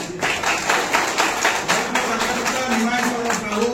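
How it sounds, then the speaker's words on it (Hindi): A crowd at a village political gathering claps steadily in welcome, a rhythmic patter of many hands that runs the whole time while a voice speaks over the top. "समस्त ताली मारी स्वागत करवा"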